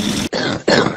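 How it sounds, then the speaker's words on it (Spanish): A person coughs in a short burst of two harsh, loud hacks with a brief gap between, close to the listener and without talk. "Te voy a dar algo para esa tos."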